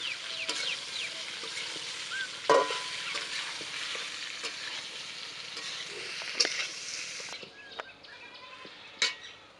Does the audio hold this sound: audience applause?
no